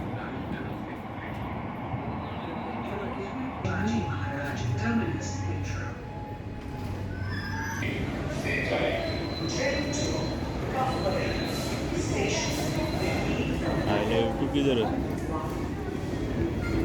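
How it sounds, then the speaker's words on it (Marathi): Mumbai Metro Line 3 train running underground toward Cuffe Parade, a steady rumbling ride noise with faint squeals and rattles throughout, heard from inside the car while someone talks over it. "हे बघा ही मेट्रो चालली आहे आता कफ परेडला"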